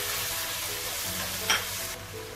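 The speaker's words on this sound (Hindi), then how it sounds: "ये टमाटर का पेस्ट डाल देना और ये नमक मिर्च और हल्दी डाल देनी है और इसे आपने कंचा लगातार चलाते हुए भूनना है" Tomato paste with salt, chili and turmeric sizzles steadily in a pan while being stirred, a continuous close frying hiss broken by a brief scrape of the spoon.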